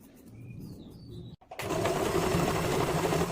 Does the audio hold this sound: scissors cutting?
no